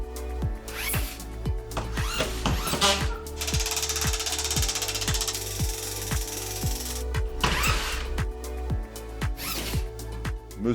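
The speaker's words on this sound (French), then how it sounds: "Vissez les plaques au montant en commençant par l'angle à l'aide de vis TTPC tous les 30 cm." Power screwdriver driving TTPC screws through plasterboard sheets into ceiling studs, with repeated short whirring bursts and clicks in a steady rhythm, one longer sustained run in the middle, loud and close.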